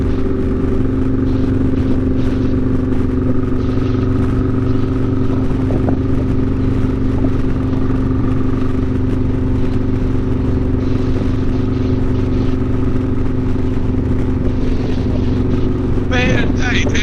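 Harley-Davidson motorcycle riding on the Foothills Parkway with another bike coming up from behind, a loud steady engine drone and wind rush throughout, rising toward the end, with riders talking over it.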